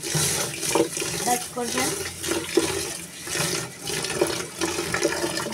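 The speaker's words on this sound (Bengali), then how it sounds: "ভাতের চালটা ধুয়ে নেব এখন" Rice grains are rinsed in water, with running and sloshing water filling the scene almost continuously while a voice speaks over it.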